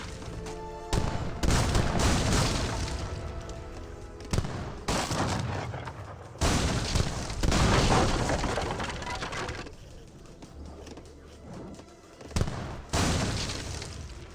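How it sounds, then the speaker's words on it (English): Field cannons fire in Age of Empires 3, a series of loud booming shots in separate bursts, each with a crashing, rumbling tail, spaced a second or two apart. "Field cannons to take out that building."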